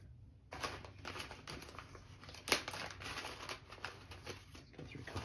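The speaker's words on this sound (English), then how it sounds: "Just getting some shavings going." A Civivi Pintail knife carving shavings from wood, close, crisp scraping and crackling strokes in a busy continuous stream, with one sharper snap midway and no talking.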